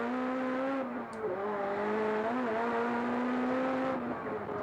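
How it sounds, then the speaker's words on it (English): A touring race car engine roars close by at high revs as it crosses a hump, its pitch dipping and recovering briefly as the car jolts, then holding a steady, loud drone. "Just listen to the car over this hump."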